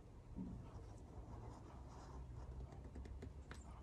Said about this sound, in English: Draw a line, a couple lines, and I'm gonna draw the top of the head.